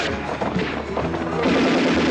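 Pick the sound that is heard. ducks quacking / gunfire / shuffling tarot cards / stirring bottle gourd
gunfire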